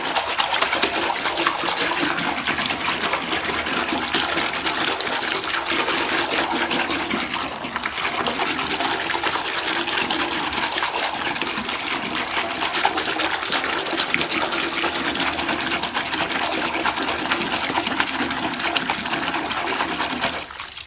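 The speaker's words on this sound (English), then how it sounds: "run your water in, your hot water in to make your bubbles" Hot water pours steadily into a bathtub to build bubbles, a loud, continuous splashing rush that holds evenly for about twenty seconds before easing slightly at the end, with no voices.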